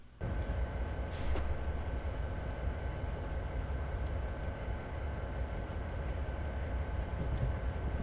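A heavy train in a simulator rolls downhill through Cajon Pass with its brakes holding it back. A steady, low rumbling drone continues throughout, joined by a faint sustained hum and a few thin squeals and clicks.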